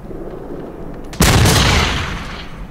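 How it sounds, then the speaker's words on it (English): A single loud gunshot blast erupts in a video game at about a second in, its boom lingering and slowly fading over quiet background ambience. "That is a loud ass gun"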